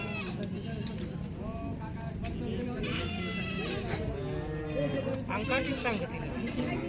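Goats bleat several times in wavering, nasal calls at a farm where goats are being handed over, heard under near-constant talking voices.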